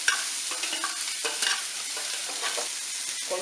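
Onions sauté in a kadai with a steady sizzle, broken by scraping stirs and soft clatters of a spoon against the pan, heard up close without any voices.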